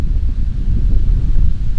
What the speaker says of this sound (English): ooh, that wind's cold